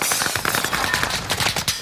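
Rapid automatic gunfire in Call of Duty: Warzone on Rebirth Island, a close, loud burst of quick repeated shots with no voices.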